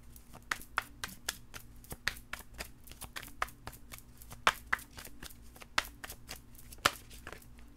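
Tarot cards are shuffled in a quick series of crisp riffling snaps and flicks, close up, with a faint steady hum underneath.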